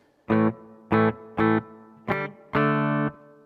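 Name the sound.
electric guitar through hall reverb pedal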